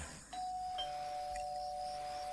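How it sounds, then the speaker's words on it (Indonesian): A house doorbell beside the front door sounds once after being pressed, a clear sustained electronic tone that rings on steadily, close and alone with no talking. "Aku coba menekan belnya."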